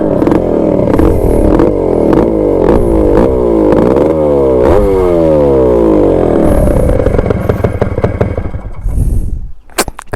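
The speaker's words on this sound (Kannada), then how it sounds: "ಹಂಗೆ ಒಂದು ಸತಿ ಸ್ಟಾರ್ಟ್ ಮಾಡಿ ತೋರಿಸ್ತೀನಿ." A Suzuki Shogun motorcycle engine starts and revs hard, its pitch sweeping up and down in repeated loud, close throttle blips with clattery mechanical noise throughout, then cutting off abruptly near the end.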